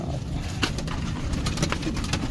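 Pigeons coo softly and repeatedly close by, low murmuring calls mixed with brief fluttery rustles.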